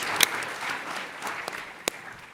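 Applause from a conference audience for a startup team at TechCrunch Startup Battlefield, a soft, even wash of clapping with a few sharper claps standing out near the start and end.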